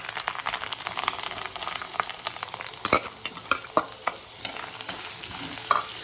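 Onions frying in a pan with ginger and garlic, stirred with a utensil: a steady sizzle under repeated scraping and clacking strokes that grow sharper toward the end, with no talking.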